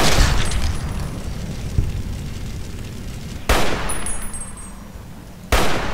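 Gunfire in the video game Fallout: New Vegas comes as loud, close booming shots with a rumbling tail at the start, followed by two more sharp blasts spaced a couple of seconds apart.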